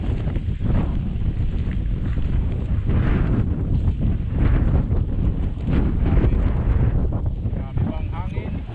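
Strong wind buffets the microphone outdoors on a boat near the sea, a continuous loud rumbling gusty roar with people talking underneath throughout.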